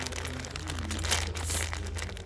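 A plastic zip bag holding small parts such as brass fittings, injector rings and seals is handled up close, giving a steady soft crinkling and rustling with a brief louder crumple in the middle, without talk.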